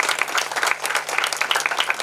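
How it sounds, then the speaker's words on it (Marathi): An audience at an International Women's Day celebration claps in a short burst of dense, moderately loud applause. "एकदा टाळ्या सगळ्यांसाठी."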